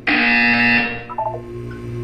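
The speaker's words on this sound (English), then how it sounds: "You will hear a buzzer." Harsh electronic buzzer in the video game Portal 2, one loud sustained blast lasting under a second that cuts off into a fading tail, with no talking over it.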